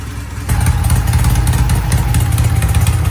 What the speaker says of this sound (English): I think the idle's set a little bit high